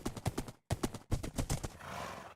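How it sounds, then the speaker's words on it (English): A horse gallops in the Minecraft video game with quick rhythmic clip-clop hoofbeats in three short bursts, close and fairly quiet, followed by a brief breathy snort. "we got one of the fastest horses on the server"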